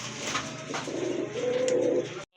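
Rampuri pigeons coo close by, a steady low warble that swells toward the end before cutting off, with no talking over it.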